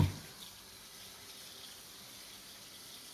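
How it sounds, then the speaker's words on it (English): Cold tap water runs steadily in a sink as a tie-dye shirt is rinsed beneath it, a constant soft gushing hiss that stays even and fairly faint throughout with no talking. "We're gonna rinse on cold water."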